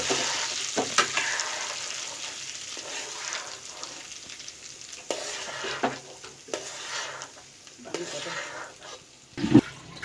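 Chana dal tossed and roasted in a pan for a sweet barfi, giving a soft dry sizzle with intermittent stirring scrapes and a few louder clatters toward the end, no voice heard.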